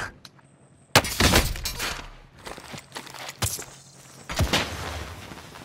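Heavy shotgun blasts in the shooter game Shellshock, a few loud sharp booms spaced apart, each trailing off, with scattered footsteps and clatter between shots.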